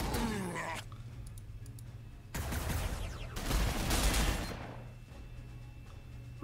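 Gunfire in Warhammer 40k: Sanctus Reach arrives as a few short rattling bursts, fairly faint and separated by quieter gaps, with light clicking between them.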